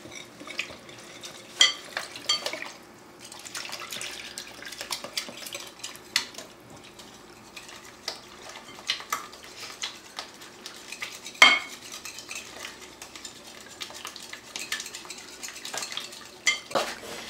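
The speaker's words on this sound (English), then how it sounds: "Now we're going to whisk it together." Pancake batter with six tablespoons of melted butter whisked in a bowl for Swedish pancakes, a steady, quiet scraping and clinking of the whisk against the bowl with scattered sharper taps, close and unaccompanied by talk.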